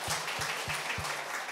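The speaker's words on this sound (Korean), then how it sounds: "저분 한번 박수로 보내주세요." A church congregation gives sustained applause during a Sunday morning service, a dense, even wash of clapping with a few soft low thumps.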